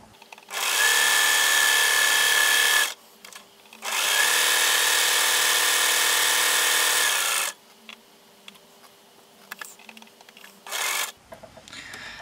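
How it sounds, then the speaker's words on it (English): A sewing machine stitching a quilt pinwheel block runs in two long, steady whirring bursts separated by a short pause, followed by a brief run and quieter handling noises. "go over to the sewing machine. Just sew away now, either side of the line that you've just drawn on."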